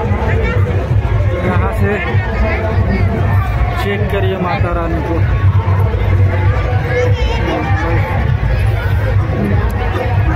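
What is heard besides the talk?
crowd at a Dussehra fair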